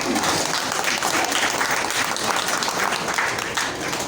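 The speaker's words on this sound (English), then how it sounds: "Let us give them a round of applause." A crowd applauds steadily, dense clapping that holds at an even loudness throughout.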